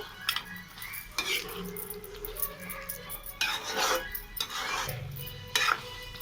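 Keema being stirred into a ridge gourd curry in a pan, a steady run of close metal spoon scrapes and clanks against the pan with a faint sizzle beneath, fairly quiet, no talking.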